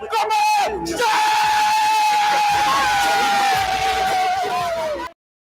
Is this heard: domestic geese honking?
no